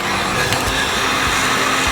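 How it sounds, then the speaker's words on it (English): A heat gun or hair blow dryer blasts hot air onto crayon wax, giving a steady, loud whooshing hiss with a continuous motor drone and a few soft low bumps. "You got your heat gun or hair blow dryer"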